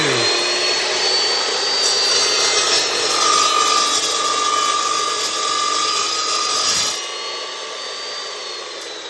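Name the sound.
chop saw cutting metal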